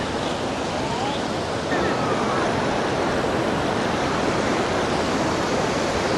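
Forceful water rushes in a loud, constant roar just below Thamaraipakkam dam near Chennai, a dense unbroken wash with a slight rise in intensity partway through.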